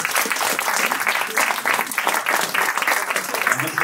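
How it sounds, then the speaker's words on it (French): Dense audience applause at a business export seminar, continuous rapid clapping from many hands filling the room, loud and sustained with no talk over it. "On peut vous applaudir une dernière fois."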